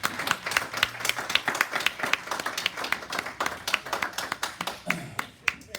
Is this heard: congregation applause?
yes